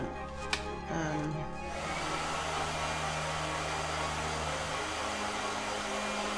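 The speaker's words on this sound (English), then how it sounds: "All right, blow dryer." A blow dryer switches on after a brief clatter and then runs continuously, a loud, steady whooshing roar with a faint hum while drying painted work.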